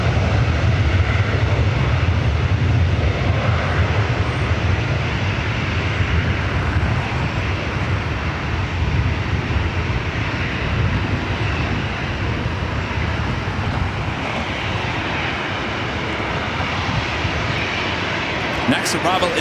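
A Boeing 777 heavy jet at LAX gives a long, steady engine roar that eases slightly partway through, with some talk mixed in underneath.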